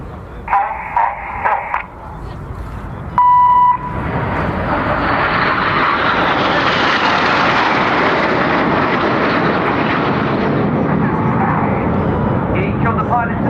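Red Arrows jets flying in formation during an air show display at RIAT 2014, opening with short radio-like voice bursts before a loud, sustained rushing jet roar swells and holds as the formation passes.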